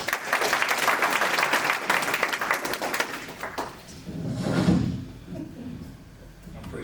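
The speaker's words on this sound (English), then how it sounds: "So let's give them another round of applause." Audience applause for elected officials at a housing commission landlord symposium, dense clapping for several seconds that thins out midway, with a brief low rumble and a few scattered claps after.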